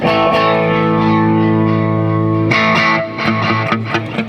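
An electric guitar rings out through a Hughes & Kettner amp on the clean channel, a sustained chord followed by a few picked notes, close and fairly loud, with no talking.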